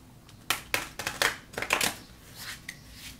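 Tarot cards are shuffled close by, a few crisp riffling bursts and taps at a quiet level, with no voices.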